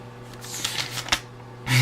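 Slips of paper rustle and crinkle as a hand rummages through them in a hat, with a few soft papery flicks and a louder crumple near the end, close and alone.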